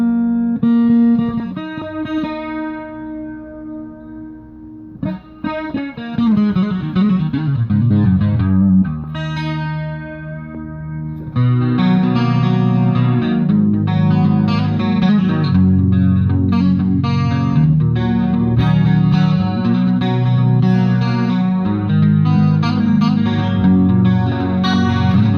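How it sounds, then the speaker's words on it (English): An acoustic guitar's pickup played through a Roland Jazz Chorus amplifier with a shimmering chorus effect, strummed chords and picked notes ringing with a wide, wavering sound. "We'll put the acoustic pickup into the jazz chorus."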